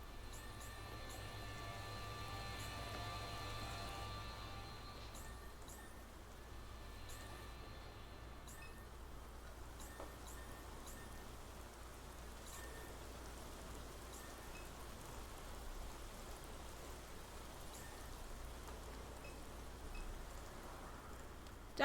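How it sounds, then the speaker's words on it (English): Steady rain falls in a continuous hiss with a low rumble underneath and a few faint tonal hums early on; no voices. A downpour in the video game NORCO. "Downpour finds way into drainage canal."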